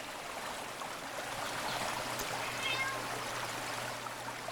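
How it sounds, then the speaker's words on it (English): A cat meows faintly in the middle distance, a few thin cries rising over a steady trickling, stream-like water noise and a low constant hum. "I hear a cat."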